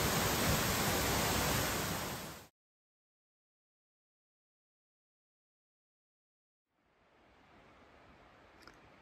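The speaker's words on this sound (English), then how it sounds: "Long Creek Falls" Steady broadband rush of Long Creek Falls on the Appalachian Trail, loud and close for a couple of seconds, then a silent gap before the roar returns more faintly.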